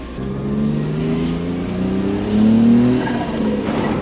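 A turbocharged kei truck accelerates hard on a test drive, its engine note climbing steadily through the gears with a surge midway, loud and close throughout.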